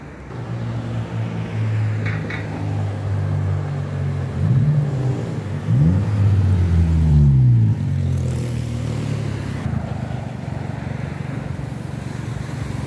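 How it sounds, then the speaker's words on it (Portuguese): A Lamborghini Huracan Evo Spider revs its engine nearby, its deep rumble swelling in several sweeping surges before settling back to a lower drone. "A Huracan Evo Spider."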